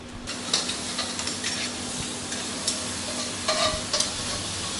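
Spaghetti alle vongole finishing in a frying pan gives a continuous close sizzle, with scattered scrapes and clinks of stirring against the pan and no voice.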